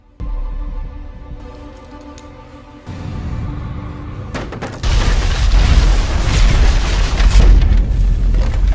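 A heavy grenade explosion bursts out, followed by sustained loud rumbling and crackling blasts, like a chaotic firefight with explosions and rapid gunfire.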